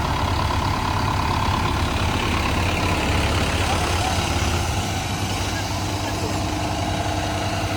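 A Mahindra Yuvo 585 tractor engine idles with a steady, continuous low rumble throughout, close and fairly loud, with a faint voice underneath.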